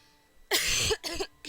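A few harsh, close coughs in quick succession, the first long and rough, followed by two shorter bursts.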